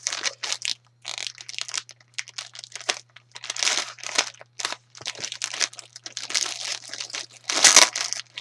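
A mail package of football cards and stickers is torn and crinkled open by hand in a series of close, sharp ripping and crunching bursts separated by short pauses, with no talking.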